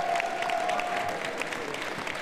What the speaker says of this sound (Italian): le facciamo un grande applauso